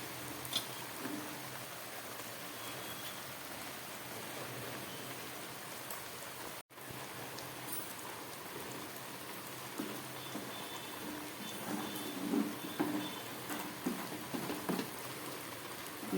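Bombay duck (lotte) fish frying in a pan after its water has cooked off, a steady crackling sizzle with faint stirring scrapes, moderately quiet and continuous, with one brief dropout midway and no talking.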